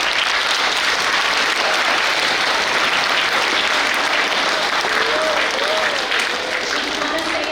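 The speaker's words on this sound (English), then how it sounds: "let's give you guys a round of applause" Loud, dense applause from a school audience at a Veterans Day assembly, continuous and even for several seconds, with a few voices faintly audible underneath.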